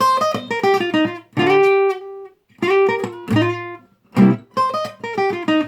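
A minor pentatonic scale is played as a slow demonstration on a pitched, sustaining instrument, with clear individual notes in short runs and a few held tones between phrases, close and unaccompanied, with no talking.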